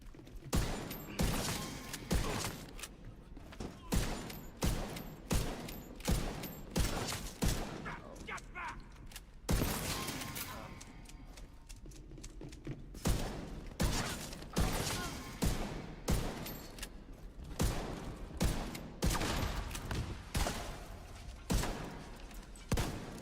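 Repeated gunfire in The Division 2, with rhythmic bursts of shots and heavy thumps at regular intervals, loud and close, and a brief quieter gap midway.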